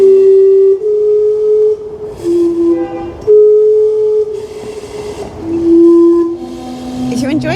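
The Gastown Steam Clock in Vancouver sounds its steam whistle in a street setting, a series of loud sustained toots of varying pitch with short gaps, over city background noise.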